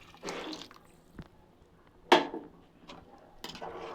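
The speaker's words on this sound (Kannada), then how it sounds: "ಬಿಸಿನೀರು ಹಾಕ್ತಾಯಿದ್ದೀನಿ ಒಂದು ಕಾಲು ಗ್ಲಾಸ್ ಅಕ್ಕಿಗೆ ಮೂರು ಗ್ಲಾಸ್ ನೀರು ತೊಗೊಂಡಿದ್ದೀನಿ" Hot water is poured onto rice in a pressure cooker, heard as short splashy bursts of liquid with drips and a clink of metal, close up and without talk.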